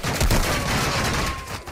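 Gunfire in the Warzone video game, a loud rapid fusillade of shots with a heavy thump near the start, sustained throughout with no talking over it.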